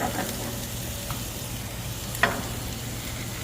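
Hamburger patties sizzle at a Fourth of July cookout, pressed flat as they fry, a steady mid-level crackle with a couple of sharp spatula clicks, nearby and without talk.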